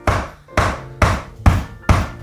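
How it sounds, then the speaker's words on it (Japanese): The narrow end of a hammer strikes cork filler inside a handmade straight-tip shoe, five loud, evenly spaced dull thuds about half a second apart, close and without talk. "このハンマーの細いとこで コルクを潰しながら"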